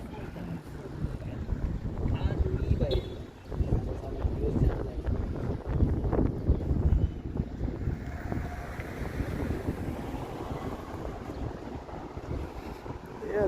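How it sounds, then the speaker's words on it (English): Chilly wind buffets the microphone outdoors on a Toronto city street in the evening, a steady rough roar with gusts, with people talking faintly beneath it. "Yeah, this chilly wind."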